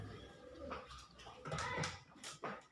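Pigeons hand-fed soaked bread give soft, close cooing and low throaty calls in short bursts, with faint fluttering and rustling between them.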